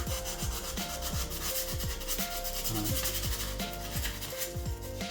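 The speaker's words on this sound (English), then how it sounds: "Removing the saw marks from the jigsaw and getting the flat pieces as flat as they can be." MDF edges are sanded flat to take out jigsaw marks, with rapid, repeated rubbing strokes of abrasive on the board, close and steady for the whole stretch without any talking.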